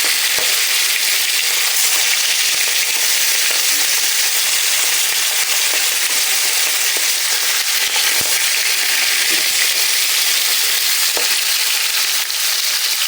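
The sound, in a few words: rohu fish frying in oil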